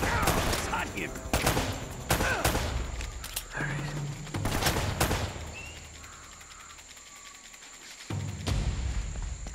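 Gunfire in the Uncharted Remastered video game, sharp volleys of shots crackling in repeated bursts with short lulls between, loud and close, with some speech mixed in.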